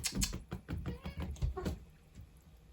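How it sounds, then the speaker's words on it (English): A cat meows faintly and close by amid soft tapping and rustling in a quiet room, the cries blending into a patter of light noises before fading. "Wrong cat, but there is a cat."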